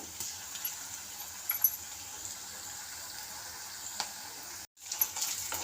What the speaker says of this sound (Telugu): ఈ అల్లం పచ్చివాసన పోయేంత వరకు వేయించుకున్న తర్వాత